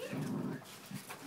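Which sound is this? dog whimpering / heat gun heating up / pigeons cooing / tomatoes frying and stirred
dog whimpering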